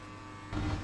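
Electric hair clipper runs with a steady low buzz during a mid skin fade haircut, growing a little louder and fuller partway through as it meets the hair, close and alone.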